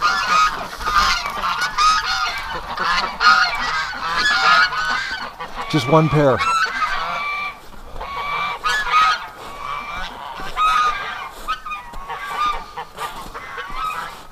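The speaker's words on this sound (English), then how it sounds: "Are the Canada geese here? Yes, they are." Many Canada geese honk repeatedly and close by, a busy overlapping chorus of calls, with a person briefly speaking amid them.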